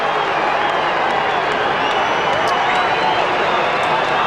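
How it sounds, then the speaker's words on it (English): A large football crowd at a 1998 AFL match between Fremantle and the Swans roars in a loud, sustained wash of noise, with a commentator speaking over it. "Crowd showing a little compassion."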